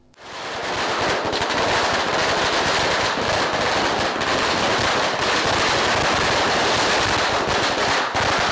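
Dense strings of firecrackers crackle and burst almost without a break at a street celebration of an election victory in Tamil Nadu. The bangs are loud and fast and carry on for several seconds.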